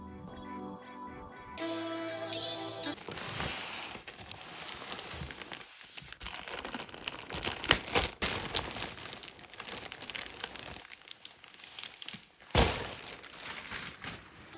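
Unboxing a Hisense C1 laser mini projector: cardboard and plastic packaging crinkles, rustles and slides, with scattered soft thumps as items come out, after a brief stretch of music at the start.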